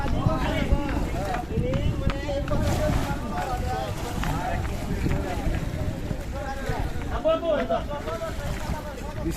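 Trawler boat engine on open haor water, a steady low rumble running throughout with wind noise buffeting the microphone, while people talk over it.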